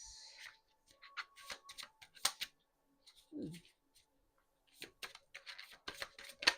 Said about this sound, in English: I can shuffle these cards.